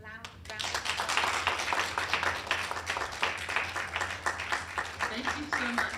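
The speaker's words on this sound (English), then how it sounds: "We'll just give you a round of applause" An audience at the Surrey Muse Gathering breaks into a sustained round of applause for Hayley, dense clapping that fills the room for several seconds, with voices mixed in underneath.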